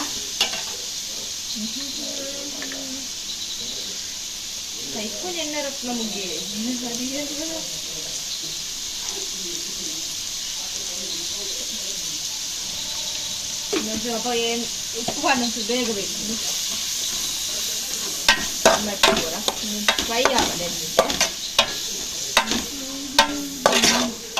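Fried masala being stirred and mixed in a pan, with a steady sizzle throughout and spoon scrapes that become sharper and more frequent toward the end. Faint voice-like tones drift in and out at times.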